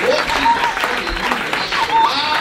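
A church congregation at a deliverance service in Brazzaville, Congo, applauding to acclaim God, with dense clapping and loud voices over it throughout.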